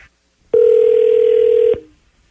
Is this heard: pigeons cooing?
no